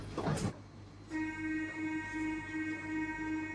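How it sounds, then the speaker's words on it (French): A train horn sounds as a radio sketch effect for a train pulling into a station, a steady harmonic toot sustained after a brief noisy rush at the start. "Nous arrivons en gare de la Grande Narbonne."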